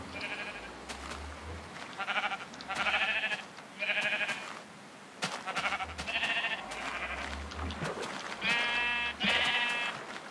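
Minecraft sheep, colored ones scattered around, bleat again and again in short wavering calls, some overlapping, fairly close and clear with brief gaps between them.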